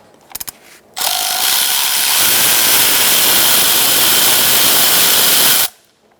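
A power tool whirs loudly and steadily for about four and a half seconds while backing out the 10mm ignition coil bolt on a 2012-2019 Fiat 500 1.4L four-cylinder, after a few quick clicks and before it stops abruptly.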